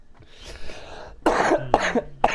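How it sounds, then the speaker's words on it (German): A person coughs three times in sharp, raspy bursts that grow louder, after a stretch of breathy hiss and low background hum. "Da huste ich gleich."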